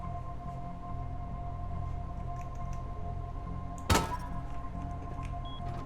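A door in the survival game Rust shuts with one solid thunk near the middle, standing out briefly over a steady low ambient hum.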